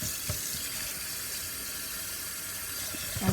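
Tap water runs steadily into a kitchen sink as meat is rinsed under it, a continuous close splashing hiss with a few brief clatters near the end.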